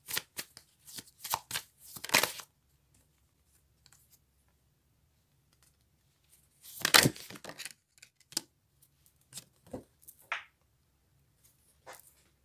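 Tarot cards being shuffled during a reading, giving a few short riffling bursts near the start and middle with scattered soft taps and slides between them, close and fairly quiet.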